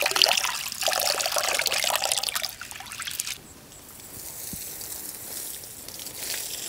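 A glass of urad dal lentils being washed in water in a kitchen: steady close sloshing and trickling for a few seconds, easing into softer, quieter dribbling swirls.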